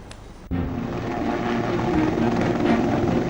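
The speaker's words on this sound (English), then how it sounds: "The chopper takes off from Maharashtra's Nilanga helipad." A helicopter lifts off from the Nilanga helipad in Maharashtra, with a loud, steady rotor and engine roar that cuts in abruptly and then keeps going as a dense, droning wash.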